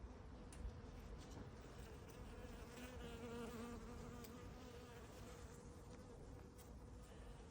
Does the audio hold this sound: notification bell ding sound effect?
no